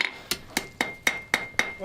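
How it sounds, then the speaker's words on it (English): A hammer strikes metal at a blacksmith's forge at a steady, even pace, seven sharp ringing blows up close, each leaving a brief metallic tone. "I should do it just with the hammer"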